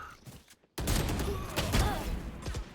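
Gunfire in an online console shooter game, a dense burst of shots after a brief silence, loud and continuous to the end with a faint voice underneath.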